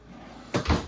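A large, deep drawer in a Grand Design Imagine XLS 17MKE travel trailer slides and thuds shut, two quick close knocks following a moment of quiet room tone.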